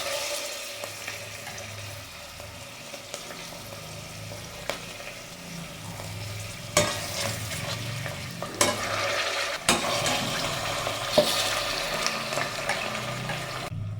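Pork ribs sizzling in a pan with garlic and onion, a continuous loud frying crackle broken by occasional sharp clanks and scrapes of a utensil turning the meat, with no voices.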